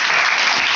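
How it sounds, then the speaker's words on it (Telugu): A brief burst of loud, dense clapping from a church congregation applauding the Lord during a Telugu sermon. "చప్పట్లు కొట్టు ప్రభువుకి"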